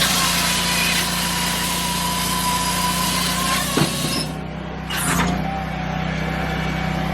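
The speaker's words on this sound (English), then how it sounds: "So now I will cut this off, and I'll be left with a 16-inch log" A Japa 365 Pro firewood processor saws through a log to leave a 16-inch piece, its engine droning loudly and steadily throughout, with a couple of short clunks and a slight dip as the cut finishes.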